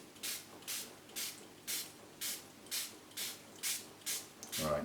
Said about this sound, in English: So it's going to get a spray anyway, just to make sure the base is clean.